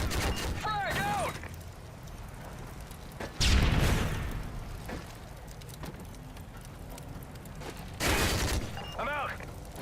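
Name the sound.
frag grenade explosion and gunfire in Call of Duty MW3 video game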